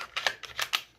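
The slide of a SIG M17 pistol is slid onto its lubricated frame during field stripping, giving a quick series of four or five sharp metallic clicks and scrapes, close and distinct, with no talk.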